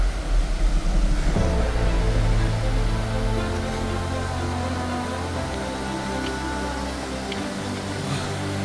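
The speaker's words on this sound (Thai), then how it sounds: "ตอนนี้ยินเสียงน้ำตกแล้ว" Continuous broad rushing of water, like a waterfall heard at some distance, steady and unbroken, with no voices, at the first tier of a waterfall in Khao Sip Ha Chan National Park, Thailand.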